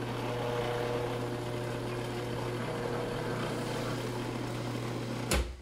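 A food processor with a metal blade mixes coffee pasta dough, a steady mechanical whir with a low hum running evenly, ending in a short sharp knock near the close.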